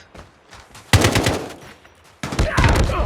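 AK47 automatic gunfire in the mobile game Call of Duty Mobile, with two loud, close bursts of rapid shots, each starting abruptly after a quieter lead-in.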